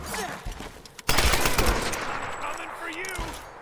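Gunfire in the Tomb Raider video game: a sudden loud burst of shots around the one-second mark, followed by a sustained rattle and ringing tail, with faint talk before it.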